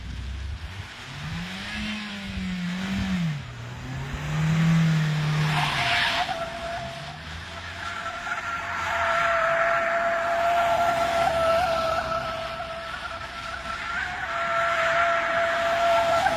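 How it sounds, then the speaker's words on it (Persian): A car drifts with the handbrake pulled and throttle applied, tires skidding and squealing in a long sustained screech over a revving engine that rises and falls, loud and close throughout. "من ترمز دستی رو میکشم و گاز میدم"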